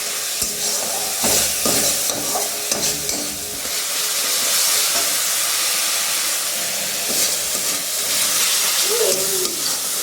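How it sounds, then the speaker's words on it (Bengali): Masala spices frying with chunks of yam in a pan, a steady close sizzle and hiss with occasional stirring scrapes and clatter throughout, loud and continuous without talk. "মশলাটা একটু ভালোভাবে কষে গেলে আর ওলটা দিয়ে ফুটে গেলে নামিয়ে নেবো"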